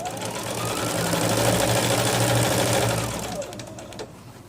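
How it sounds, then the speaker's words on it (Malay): A sewing machine runs continuously, stitching the hem of palazzo trousers, with a steady close mechanical rattle that swells in the middle and eases off toward the end. "So kita jahit sampai habis eh"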